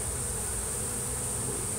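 A honeybee swarm hums in a dense, continuous buzz close by, steady and loud, with no voices.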